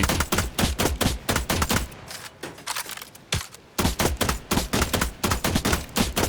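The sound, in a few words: gunfire in The Last Caretaker video game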